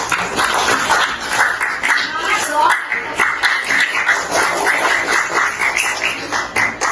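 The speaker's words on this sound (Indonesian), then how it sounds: "Oke, kasih tepuk tangan untuk Abel dan Dita." Classroom of seventh-grade students clapping for two classmates, a dense steady patter of many hands sustained for several seconds, with a teacher's voice briefly speaking over it.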